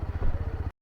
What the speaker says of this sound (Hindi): पहले यहाँ से बाइक का वार्म अप करके निकलते हैं